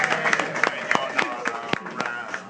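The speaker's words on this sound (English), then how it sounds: "Give yourselves all a round of applause for that." A crowd at an outdoor day-of-action protest in Toronto claps and cheers in a dense burst of applause, with sharp individual claps standing out close by and voices mixed in.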